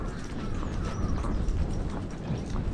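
A horse walks with a rider on its back, dull hoof thuds blending into a steady rumble of movement and outdoor noise, close and continuous.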